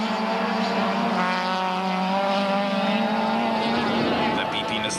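Touring cars, a BP Nissan Primera and BMWs, race at Aldo Scribante in 1998, with a loud, sustained, droning engine whine that shifts pitch as they pass. A commentator talks excitedly over it throughout.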